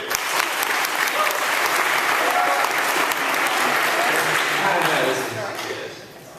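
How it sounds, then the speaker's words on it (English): Enthusiastic crowd applause, loud and dense for several seconds before tapering off near the end, with voices audible underneath. "give them a round of applause"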